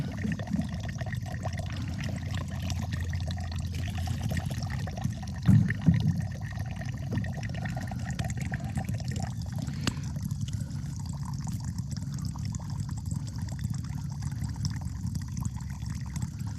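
Water draining from no-till farm soil trickles out of a small underground spigot, a steady low gurgling flow heard close with a brief splashier moment midway, no talking.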